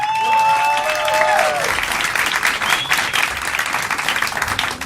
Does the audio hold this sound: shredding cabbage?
no